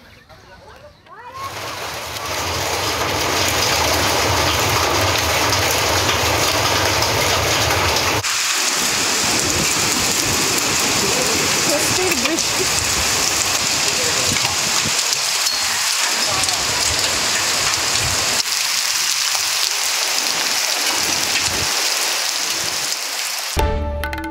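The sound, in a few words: rain and hail falling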